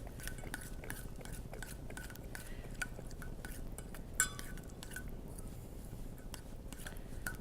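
A small spoon clinks steadily against a dish while mixing an extra virgin olive oil chimichurri dressing, a quick rhythmic series of light taps over a faint background hum.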